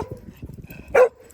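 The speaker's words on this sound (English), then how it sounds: "So he's going to have Cookie bark at him this whole time" A dog on a walk gives one sharp, loud bark near the end, after a moment of low rustling and shuffling nearby.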